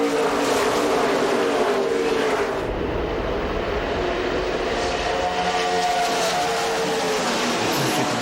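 NASCAR Craftsman trucks race at Gateway after a restart, a loud continuous engine roar with pitch sweeping up and down as trucks pass, steady throughout with no pauses.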